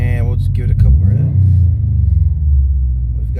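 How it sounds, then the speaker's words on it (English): A cold Subaru WRX/STi revved in a couple of low, rumbling blips, loud and close, with exhaust drone rising and settling as a voice talks over it. "we'll just give it a couple revs."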